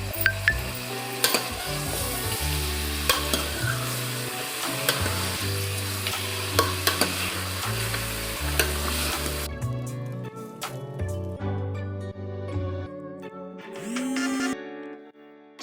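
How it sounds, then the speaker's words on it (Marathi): Chicken pieces with a spoonful of turmeric and salt sizzle and fry in a pan, steady hiss broken by repeated scraping stirs and utensil knocks, the sizzle dropping away partway through as the heat settles. "चिकनमध्ये 1 चमचा हळद घाला आणि 1 चमचा मीठ घालून 2 मिनिटे वाफेवर शिजवून घ्यायचे."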